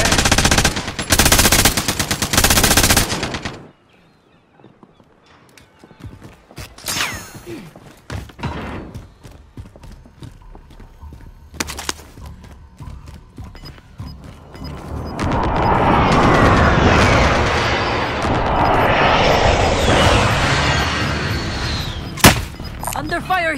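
Call of Duty: Warzone gunfire, with loud rapid automatic bursts at the start, then scattered shots and thuds before a long, heavy roar of fire and explosions. A voice is faintly heard in the game mix.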